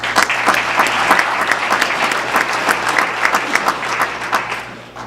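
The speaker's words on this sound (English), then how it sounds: "Give them another round of applause." Sustained, dense applause from an indoor audience at a farm bureau candidates forum in Pitt County, many hands clapping steadily and loudly throughout before tapering slightly at the end.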